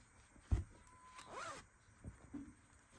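A wallet zipper is pulled open once at close range, a brief rasping run of teeth heard alone in a quiet room, preceded by a soft handling knock.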